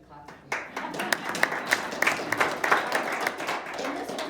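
An audience claps together, a dense spread of hand claps rising quickly and holding steady for several seconds, with voices mixed in underneath.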